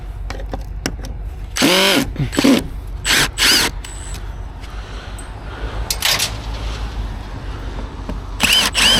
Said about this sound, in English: So I'm gonna bust the screws off here and then we'll figure out what's going on with it.